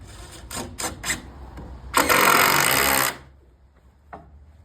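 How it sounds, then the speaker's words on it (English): A drill driving screws into wood for a nailer, with a few short bursts of whirring and clicking, then a longer loud drive of about a second before it stops and a tap follows. "go ahead and pop in a couple more screws"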